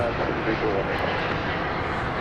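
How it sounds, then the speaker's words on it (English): An American Airlines Airbus A320 airliner arriving at DFW airport gives a steady, broad jet roar throughout, loud and unbroken, with a voice talking underneath. "American Flight 831 coming in from Monterey, and Airbus A320"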